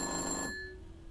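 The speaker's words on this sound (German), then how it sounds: "Telefon." A telephone in the video game Black Mirror 2 gives a single short ring that cuts off abruptly, leaving a fading tonal tail.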